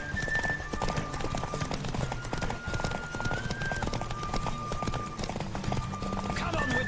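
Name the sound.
horse galloping in The Witcher 3 video game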